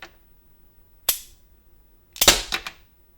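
A 3D printed rubber-band pistol with a rotating magazine fires: one sharp, close snap, then after a pause a quick cluster of two or three cracking snaps, with silence between.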